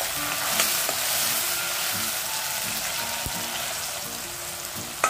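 Chopped tomato with salt frying in a pan for a red chavli amti, a steady close sizzle with faint scraping and stirring clicks, no voice.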